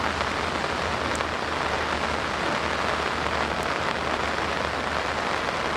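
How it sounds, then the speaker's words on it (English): Steady rain pours down during a disc golf tournament round in Southern California, an even close hiss with pattering drops and no talk. "It was so fun to play in the rain, though."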